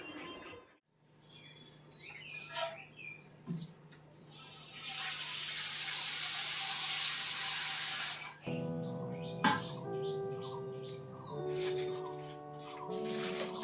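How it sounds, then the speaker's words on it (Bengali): Tap water runs into a container while lentils are soaked for tarka dal in a home kitchen, a steady rush for several seconds between clinks and handling sounds, with birds chirping faintly in the background. "সেই জন্য আমি দুপুরবেলাতেই তরকার ডালটা ভিজিয়ে দিচ্ছি"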